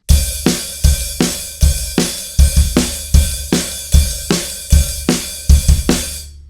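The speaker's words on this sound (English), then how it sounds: "the beat that I play is an open hi-hat with eighth notes," Acoustic drum kit playing a song's beat: open hi-hat on eighth notes with kick and snare in a steady, driving rhythm, close and loud, ringing out briefly at the end, with no voices.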